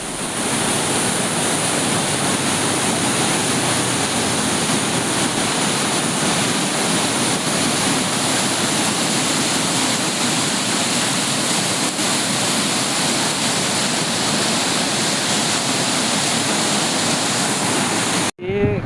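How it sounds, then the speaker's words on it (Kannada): Rushing water flows at Pahalgam, Kashmir, a loud, steady roar close by that continues without a break for nearly the whole stretch and cuts off at the very end. "ಇಲ್ಲಿ ಒಂದು ಕಡೆ ನೀರು ಹರಿತಾ ಇದೆ"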